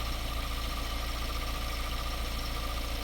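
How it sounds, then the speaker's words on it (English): A Mini Cooper S convertible engine runs steadily and too loudly nearby, a constant droning rumble with a slight vibrating rattle and no other sounds. "that engine sounds very loud"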